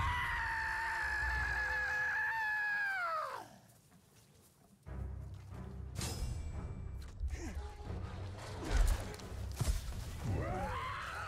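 A long, pitched scream from an orc captain in the video game Shadow of War rises, holds steady, then falls away over several seconds. A rougher cry follows later amid game noise.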